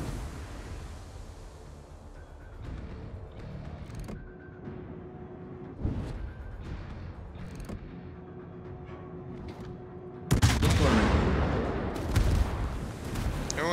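Heavy naval guns on a supership in a warship battle game boom out in several spaced, loud salvos, each with a sharp onset and rolling tail, ending in a dense burst of blasts.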